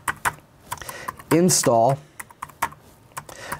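Quick irregular keystrokes on a computer keyboard, close and clear, as a terminal command is typed to install I2C tools on a Raspberry Pi, with someone speaking briefly in the middle.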